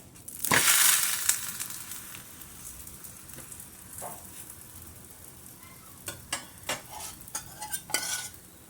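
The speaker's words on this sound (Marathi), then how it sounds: "तवा गॅसवर ठेवला तेल सोडायचं आपली चपाती घालून घ्यायची चपातीवर तेल सोडायचं" A chapati frying in oil on a hot griddle over a gas flame, sounding as a soft steady sizzle with a loud burst of spatter near the start and a run of sharp clinks or scrapes toward the end.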